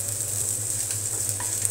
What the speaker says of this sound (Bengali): তো এই যে পেঁয়াজ বেরেস্তার জন্য আমি একটু তেল দিয়ে দিলাম।